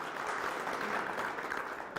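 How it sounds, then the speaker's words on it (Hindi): Audience applause at a farmers' forum program on stubble management, a brief, fairly faint steady patter of clapping from a crowd with no voices. "जोरदार तालियों के साथ अदा कीजिए"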